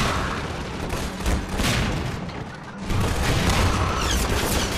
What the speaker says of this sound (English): let's just use rockets